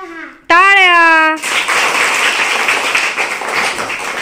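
A brief voice gives way to a sustained burst of close, lively hand clapping during a children's counting and instruction game at home.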